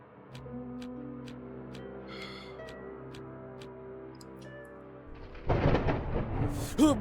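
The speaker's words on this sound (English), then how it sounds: "That's loud. Why is there so much lightning?" Thunderstorm in the horror game The Incident at Galley House: ambient rumble with a ticking clock, then a loud, close thunderclap bursts out and keeps rolling and crackling near the end.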